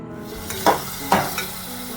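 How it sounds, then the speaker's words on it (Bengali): Potato, ridge gourd and green chili fry in hot oil after onion and cumin, a steady sizzle broken by a few louder scraping stirs of the spatula, close and alone with no voices. "আলু সবজি মানে আলু ঝিঙে আর কাঁচা লঙ্কাটা দিয়ে একটু ভালো করে ভেজে নিচ্ছি"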